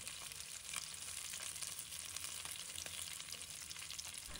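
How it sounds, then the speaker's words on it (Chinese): Fish pan-fries in a wok with a steady, even sizzle and faint crackles throughout, heard alone at a fairly quiet level. "保证煎出来的鱼不破皮不粘锅。"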